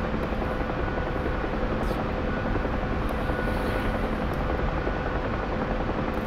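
Steady, loud UH-1 Huey helicopter rotor and turbine drone fills a VR flight-simulator game, heard from inside the cockpit as an unbroken close roar with faint clicks and no talk.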